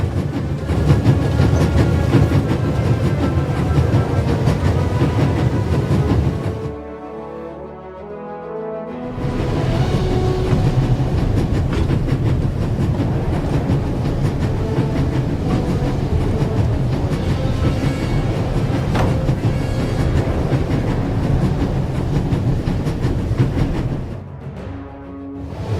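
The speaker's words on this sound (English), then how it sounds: "There's nothing quite like traveling on a train." A steady, continuous rumble of a train rolling along tracks in the video game The Raven - Legacy of a Master Thief, loud and close, with a brief quieter dip partway through before the noise resumes.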